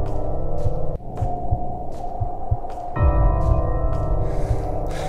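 Looping, skipping ambient drone from a Slender video game map: a low throbbing hum that cuts and restarts in uneven jumps, with faint pulsing thuds repeating over a dark, steady background.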